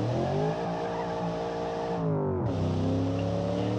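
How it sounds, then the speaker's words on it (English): Car engine droning and revving in a driving video game, a steady layered tone that dips and shifts pitch midway before climbing again, heard alone at moderate loudness. "The engine sounds really good"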